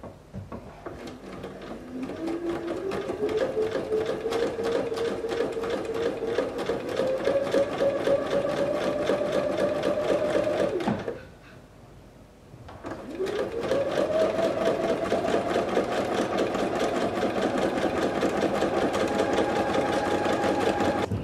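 A sewing machine runs steadily while stitching a French seam with the fabric's wrong sides together, using the presser foot as a seam guide. The loud motor whir holds for about ten seconds, stops briefly, then starts again and runs to the end.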